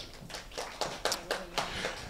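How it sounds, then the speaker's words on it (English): A church congregation claps in a loose, sparse scatter of hand claps, fairly faint and uneven, lasting about two seconds. "Give him a round of applause."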